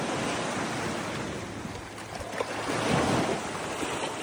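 Ocean waves wash toward a pebbly Florida beach, a loud, broad rushing surf that swells and recedes, mixed with wind buffeting the microphone, with no voices.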